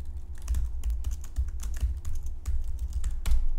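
Steady, close clatter of keys on a computer keyboard while a row is entered into a MySQL table, the rapid taps running continuously with a few sharper keystrokes like Enter, no voices.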